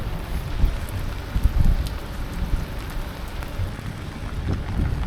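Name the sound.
rain falling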